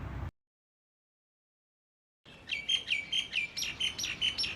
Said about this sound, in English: The next morning, I wake up to the chirping of birds